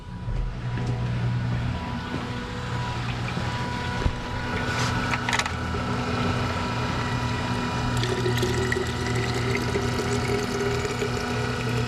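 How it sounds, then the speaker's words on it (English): An electric water pump runs steadily, a constant motorized hum with water rushing and gurgling as it pushes through the lines, with a few knocks and clunks along the way. "my water pump. Boom."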